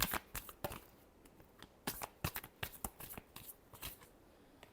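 A deck of tarot cards is shuffled by hand, close and quiet, in a string of sharp irregular riffling snaps and soft slides lasting several seconds, with no talking over it.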